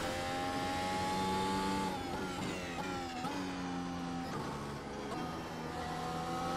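A Mercedes W13 Formula 1 car's engine in iRacing rises and falls in pitch through continuous revs, with steady high-pitched whine and gear changes, loud and sustained without a break.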